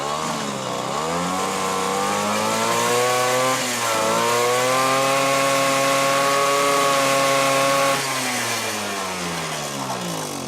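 A Suzuki LT 50cc mini quad engine revs up close, its buzzing pitch climbing, dipping briefly, climbing again and holding before falling back toward idle, with no talking.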